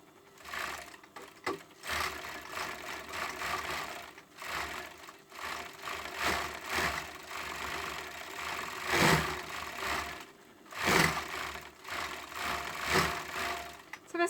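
Sewing machine stitching the side seam of a hoodie through two layers of fabric, running in steady mechanical bursts with brief pauses between them, close and moderately loud, no talking.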